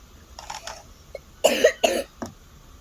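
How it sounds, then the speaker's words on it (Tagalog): Several sharp coughs from a nearby person, two loud ones close together followed by a softer one, with faint quieter sounds before them. "Pasensya na may ubo kasi ako"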